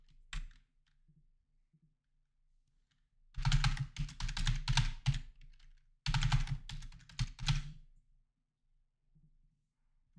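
Username and password being typed on a computer keyboard, with two dense bursts of rapid key clicks a few seconds each, separated by a short pause and framed by near silence, close and moderately loud with no speech.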